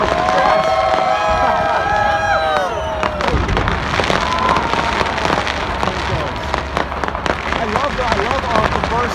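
New Year fireworks burst loudly over a large outdoor crowd, with whistling rockets, crackling and booming bursts layered over continuous cheering and excited voices nearby.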